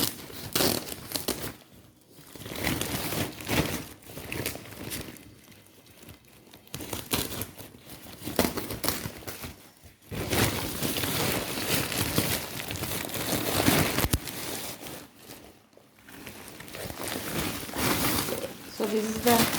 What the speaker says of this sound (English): Let me cut this, open this bag.